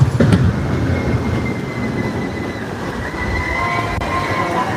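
Pony Express roller coaster train at Knott's Berry Farm rumbling past on its track overhead, a steady mechanical roar with faint wheel squeal and distant rider screams blended into the noise.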